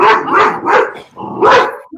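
A dog barks four times in quick succession, loud and close, with a brief gap before the last bark; no one speaks.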